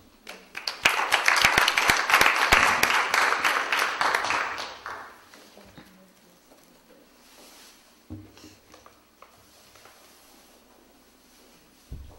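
An audience claps loudly for several seconds at a talk, the applause swelling and then fading away, followed by quieter room sounds with a few scattered bumps.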